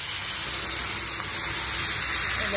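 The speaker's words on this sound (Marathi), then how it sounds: "तर आता आपल्याला ह्याच्यात पाणी घालायचं आहे." Water poured into a pan of fenugreek curry, a continuous close rushing hiss that fills the whole stretch at an even, fairly loud level.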